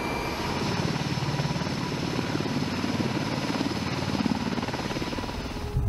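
A helicopter drones steadily nearby, its rotor producing a rapid rhythmic thumping under a loud engine whine that cuts off abruptly at the end.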